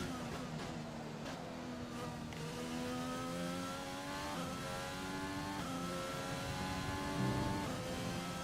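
High-revving Formula 1 car engine in the F1 2020 racing game, running steadily at Monza approaching the Parabolica corner, with rising harmonic sweeps as gears shift up and down under constant loud engine drone.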